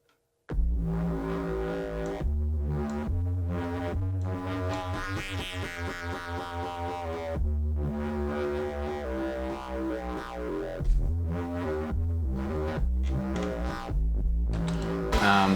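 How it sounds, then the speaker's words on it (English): A warm analog synthesizer plays a steady sequence of sustained, buzzy notes with rich harmonics, loud and continuous with short gaps between phrases. "So we've got like a Moog type synth"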